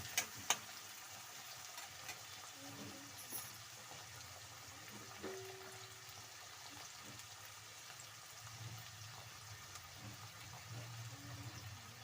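Tomatoes and spices fry in a pan for vangi bath, a steady low sizzle with faint stirring scrapes throughout, close but quiet.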